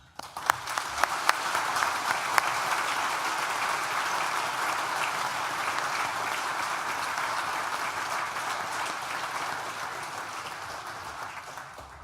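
Sustained applause from a large audience at a university graduation ceremony for the School of Social Sciences, a dense steady wash of many hands that starts with a few sharp claps and slowly thins toward the end.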